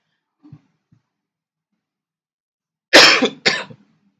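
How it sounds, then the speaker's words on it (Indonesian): A preacher coughs twice in quick succession, loud and close, during a Sunday church service sermon, after a couple of faint throat sounds in an otherwise quiet room. "Maaf ya Bapak Ibu, diselingin batuk soalnya"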